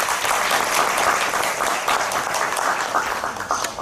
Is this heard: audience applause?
yes